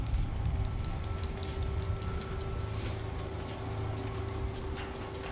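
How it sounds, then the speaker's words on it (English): Steady rain falling outdoors, with a dense continuous patter of drops hitting surfaces around a workspace, fairly loud and unbroken with no talking. "Unfortunately, it started raining"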